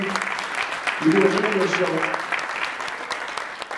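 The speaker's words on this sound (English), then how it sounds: "Let's give her a round of applause." Audience applause for Zaza Ali at a conference keynote, a sustained wash of clapping that swells briefly and then carries on under a voice talking over it.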